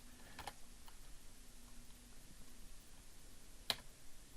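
A few sparse, quiet computer keyboard presses, shortcut keys for copying and pasting in After Effects, give two sharp clicks, one early and a crisper one near the end, against faint room hiss.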